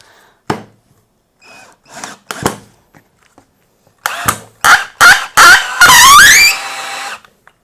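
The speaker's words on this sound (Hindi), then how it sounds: "ये लकड़ी का जो स्क्रू है पूरा लकड़ी के अंदर घुस गया है।" Total 18V cordless drill set to torque 15 driving a wood screw into wood: a few short taps, then bursts of motor whirring that rise into a sustained, loud whine as the screw seats.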